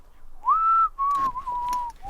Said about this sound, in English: Thank goodness you've stopped that incessant whistling.